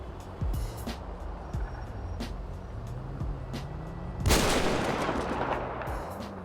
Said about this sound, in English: Sniper rifle.